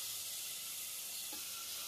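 Half a finely chopped onion and one finely chopped tomato sauté in a pan for Karwari-style crab masala. A steady, even sizzle runs alone throughout at low level, with a faint brief clink near the end.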